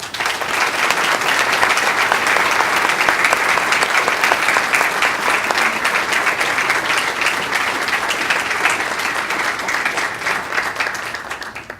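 Sustained applause from an audience greeting four alumni panelists at a panel discussion, a dense steady wash of many hands clapping at full volume for about twelve seconds before tapering off at the end, with no talking over it.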